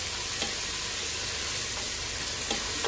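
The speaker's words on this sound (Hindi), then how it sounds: "फिर हम इसमें अपना मैरिनेट किया हुआ गोश्त डालकर इसको भूनेंगे" Marinated mutton sizzles in a pan of softened onions for a white korma, a steady broadband hiss with a few soft stirring scrapes, close and continuous, no voices.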